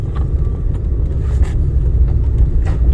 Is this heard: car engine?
yes